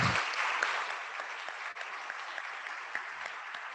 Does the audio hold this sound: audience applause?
yes